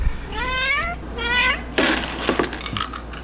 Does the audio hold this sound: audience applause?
no